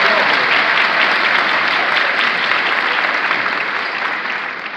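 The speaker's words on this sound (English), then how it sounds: "give them a round of applause" Loud, sustained applause from a large crowd at a teachers' union event, dense clapping that continues steadily for several seconds before tapering slightly at the end.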